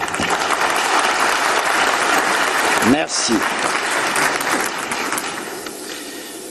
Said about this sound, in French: Je vous prie d'applaudir pour vous-même.